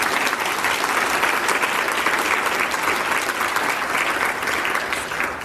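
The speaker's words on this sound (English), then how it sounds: "We give them a round of applause for that." An audience at a chamber of commerce state-of-education event applauds students, with dense, even clapping from a large hall crowd sustained for several seconds.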